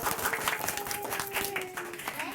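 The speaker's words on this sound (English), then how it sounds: "Can we all clap?" An audience at a children's book reading claps briefly, a soft, fairly distant patter of many hands lasting a couple of seconds with a faint voice underneath.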